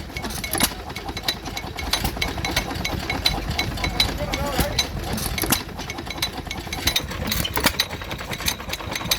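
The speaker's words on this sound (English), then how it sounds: "And this one is driving a power hacksaw." A vintage stationary engine at a Victorian show runs a power hacksaw, chugging in a rapid, even knocking rhythm with mechanical clatter close by. Bits of speech and outdoor crowd noise sit around it.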